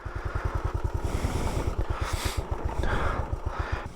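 A 1984 Honda Trail 110 motorcycle engine climbs a rough trail close-up, its single-cylinder exhaust putting out a steady rapid thump that rises and falls as throttle changes, with wind and clatter over it.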